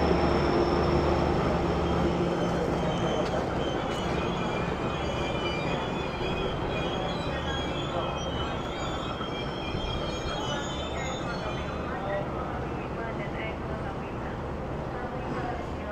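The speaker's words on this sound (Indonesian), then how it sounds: "kereta api Doho masuk stasiun Mojokerto" The Doho passenger train rolls into Mojokerto station in Indonesia with a loud, steady rumble of wheels on rails and high squealing tones, heard close from aboard or beside the train.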